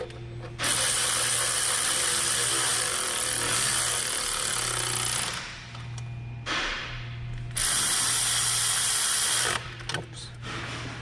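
A ratchet wrench snugs bolts on the coolant system of a 2022 Hyundai Tucson in two long bursts of fast, close clicking, separated by a pause and a few shorter clicks.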